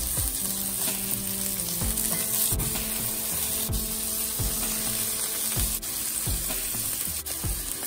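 Bison meatloaf burgers sizzle steadily in a hot cast iron pan, a loud close frying hiss with recurring scrapes and clinks as they are handled, no voices.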